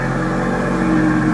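A five-cylinder car engine with Super Sport seats and Matrix headlights revs steadily at close range, a dense, continuous mechanical drone with no talk over it.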